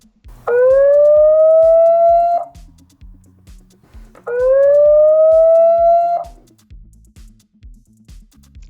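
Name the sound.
ANNKE Crater 2 security camera alarm siren test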